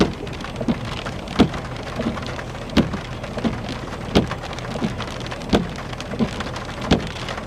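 Heavy rain pours steadily during a severe Oklahoma thunderstorm, a dense close hiss of drops on surfaces punctuated by regular sharp cracks, with no voices.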